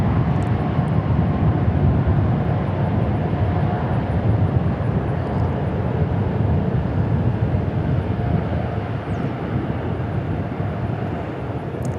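An Atlas Air Boeing 747 cargo jet arriving at DFW Airport from Anchorage fills the air with a steady, loud, broad engine roar that holds for the whole stretch.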